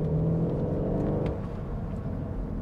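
A VW Golf 8 GTD diesel pulls hard from inside the cabin, its engine a deep steady drone that drops in pitch and level midway as a paddle upshift goes through, then carries on lower, with no voices.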